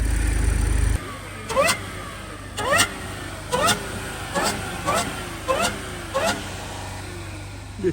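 Audi S5 fitted with a titanium intake, heard from outside in a series of about seven sharp throttle blips at a steady rhythm over a low idle, each a short loud rise and fall.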